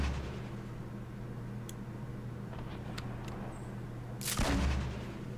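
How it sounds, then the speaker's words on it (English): A single grenade launcher blast in Fortnite Blitz mode booms out near the end, a broad loud burst over a steady low game hum with a few faint clicks earlier. "And grenade launchers and grenades"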